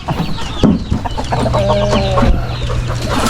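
A chicken clucks repeatedly at close range, with a few sharp calls and a steady fowl murmur, amid light background noise.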